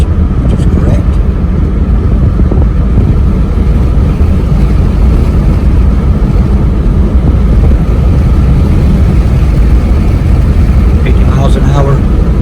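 A Dodge that had trouble shifting into overdrive, now running after new input and output speed sensors, is given gas: a loud, steady engine and road drone fills the cabin while someone talks over it.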